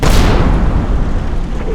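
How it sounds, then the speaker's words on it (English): Preparatory artillery bombardment in Combat Mission: Battle for Normandy, a loud, continuous rumble of heavy explosions and deep booms rolling together without pause. "You see here the preparatory bombardment is now begun"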